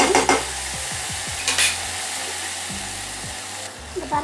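Okra sautéed in a pan, with a spatula scraping and stirring in repeated short strokes over a low frying hiss, fairly close.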